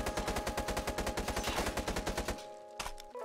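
An SMG fires in the Roblox-style game Jailbird Remastered, a rapid even burst of about two seconds of close, loud shots, then stops and leaves faint game sounds and a short click.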